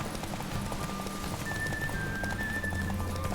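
Horse hooves drum in a steady gallop in The Witcher 3 video game, a continuous rhythmic clatter under game music and ambience, with no speech.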